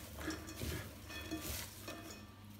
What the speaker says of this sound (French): Je mélange déjà bien, comme ceci.